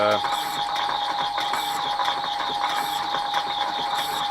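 An old South Bend 14 1/2 lathe takes a facing cut across a large welded spacer, giving a steady, continuous mechanical whir and tonal hum with a faint, regular ticking that repeats about once a second throughout.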